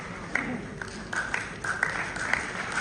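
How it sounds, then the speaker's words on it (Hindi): An audience applauds at an outdoor Van Mahotsav tree-planting ceremony in Jammu, a short continuous patter of clapping with scattered sharper claps and a murmur underneath. "जोरदार तालियां।"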